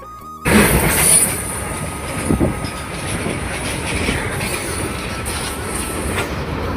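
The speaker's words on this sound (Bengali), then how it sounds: "আর একটা ট্রেন আসছে" A long train rolls slowly past nearby. Metal wheels squeal and rumble, and the cars clatter in a steady flow that starts abruptly and keeps going to the end without pausing.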